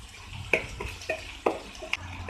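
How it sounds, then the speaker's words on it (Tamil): Onions sautéing with garlic in a pan for spicy red sauce pasta, a spatula scraping and stirring in sharp strokes about every half second over a soft, low sizzle, with no talking. "இப்போ நம்ம இந்த ஆனியன் சேர்த்திடலாம். அதில் வெங்காயத்தை ஓரளவுக்கு நல்லா வதக்கிக்கலாம்."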